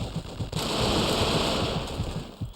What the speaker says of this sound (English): I can hear gunfire, so it's more than one.